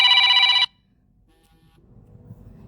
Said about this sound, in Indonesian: Ada yang telepon pun.